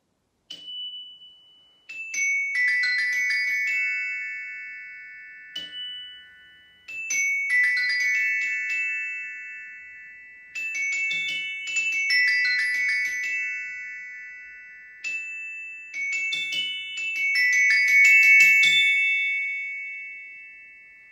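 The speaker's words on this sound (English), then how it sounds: "When we play it with these soft plastic mallets, it has a really nice, ringing, singing, lyrical kind of sound." Tuned percussion bars struck with soft plastic mallets ring out in bright, sustained tones, several runs of notes separated by pauses, each note ringing on clearly with no voices.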